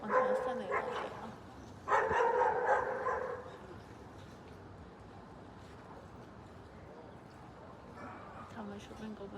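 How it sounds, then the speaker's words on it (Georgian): Several dogs bark in short bursts while playing outdoors, with louder barking near the start and around two seconds, then fainter yips over a steady background rumble as a person talks. "თამაშობენ გოგოს ძაღლები."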